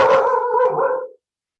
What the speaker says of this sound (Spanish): Perdón, Sofía, si te quedaste sorda con el ladrido.